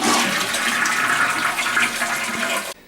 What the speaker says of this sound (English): the next thing we're going to want to do is flush the tank, get all the water out of here